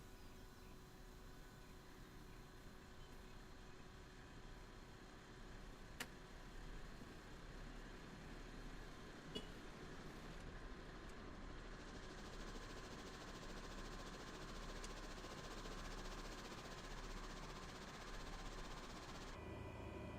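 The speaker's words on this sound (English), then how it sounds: "We are now starting our engines." Aircraft engines starting up in Microsoft Flight Simulator on a VFR flight around Queenstown and Milford Sound, New Zealand: a steady, low droning engine rumble that holds evenly throughout, quiet and continuous with a couple of faint clicks.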